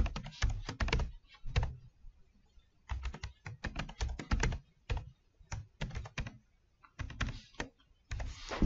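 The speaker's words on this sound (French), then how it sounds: "je vais rentrer mon adresse email ainsi que mon mot de passe." Quick bursts of typing on a computer keyboard as an email address and password are entered, clustered clacks separated by short pauses, close and clear with no talking.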